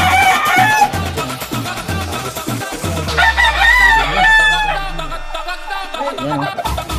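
Mixed backyard fowl in Quezon City, among them a turkey, chickens, a rooster and pigeons, call loudly and close by in overlapping clucks, crowing and gobbling-like cries with no pause.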